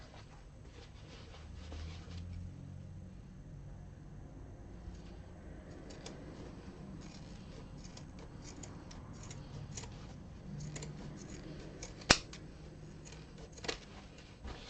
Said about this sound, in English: I'm going to use my pinking shears